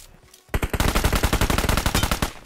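Rapid automatic gunfire in the PUBG Mobile Erangel map, a close loud burst of evenly spaced shots lasting about two seconds after a brief quiet moment.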